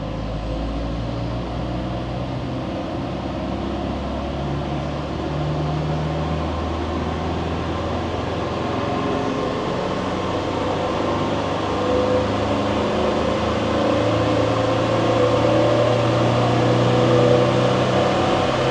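A Land Rover Defender 300 Tdi diesel engine runs steadily on a dyno, a loud continuous drone with a broad mechanical hum that holds a constant level throughout, with no voices.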